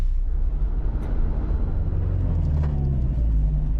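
Low, steady engine rumble of a vintage German campervan on the road, a continuous heavy drone with rattling undertones and no voices.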